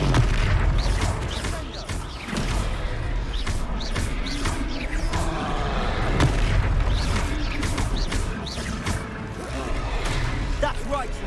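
Confringo blasting spells explode in a Hogwarts Legacy battle as a steady barrage of booms and crashes, loud and dense, under shouting voices.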